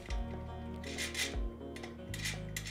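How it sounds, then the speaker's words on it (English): Screw being driven to fasten a plate reverb transducer to an IKEA table, with close, squeaky rubbing and rasping turns in short repeated strokes over a steady hum. "here's the transducer, screw, through our hole, and tighten it down"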